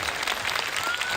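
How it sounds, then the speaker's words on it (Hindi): Audience applause at an indoor gathering, a steady dense wash of many hands clapping at once, filling the short stretch with no voices. "जब ये लोग ताली बजाते हैं ना"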